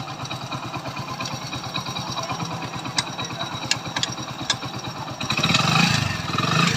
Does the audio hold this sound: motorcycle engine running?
yes